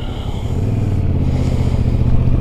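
A 2021 Yamaha Tracer 7 motorcycle engine rumbles steadily up close during a test ride, a low continuous drone that holds throughout with slight revving variation.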